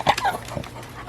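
A dog on a farm gives a short, close whimpering whine, a brief high nasal sound lasting about a second.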